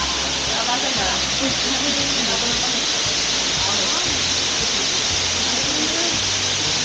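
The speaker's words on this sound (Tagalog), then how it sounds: "Ayun yung falls." The Matabungka waterfall in Paete roars as a steady, loud wash of broad hiss that stays constant from start to finish, with faint low rumbles underneath.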